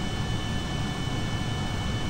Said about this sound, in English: The jet engines will die on their own.